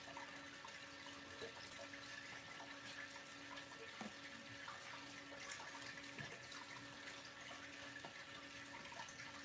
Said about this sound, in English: You would never would have expected a water pump to do exactly that.